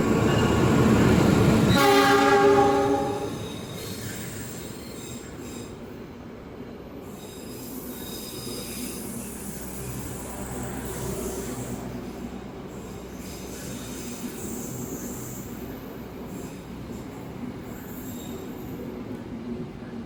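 The Pangrango New Generation economy passenger train, Bogor–Sukabumi line, opens with a loud, near horn blast over screeching wheels, then settles into a steady rolling rumble with clattering and squeals as it runs.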